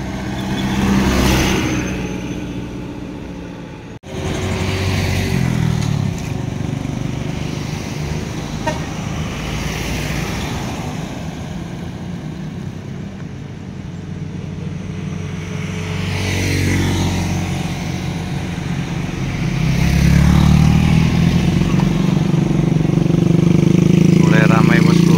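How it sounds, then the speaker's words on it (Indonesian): Heavy road traffic climbs the steep Batu Jomba hill in the evening, cars and motorcycles rumbling past close by with repeated horn toots, while someone talks over the steady engine roar. "seperti ini penampakan arus lalu lintas di tanjakan Batu Jomba"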